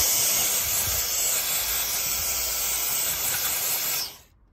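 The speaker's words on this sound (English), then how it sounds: "I'll just give that a hoover out just to make sure that we get all of that out of there." A vacuum cleaner hoovers debris out of the glow plug holes of a 2010 Golf Mk6 GTD 2.0 TDI diesel engine, a steady close airy hiss and roar lasting about four seconds before cutting off abruptly.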